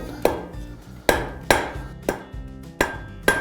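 Blacksmith hammering hot iron at a living-history forge, a series of sharp ringing metal strikes at an uneven pace, each with a short decaying ring, close and clear with no talking.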